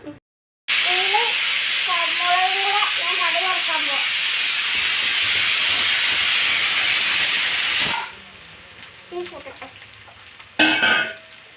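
A loud, steady steam hiss from a pressure cooker whistle runs for several seconds, then cuts off, leaving faint kitchen sounds, fenugreek crackling and brief voices.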